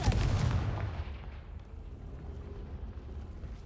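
A Confringo fire spell in Hogwarts Legacy goes off as a deep booming blast with a bright burst, then fades into a long rumbling tail.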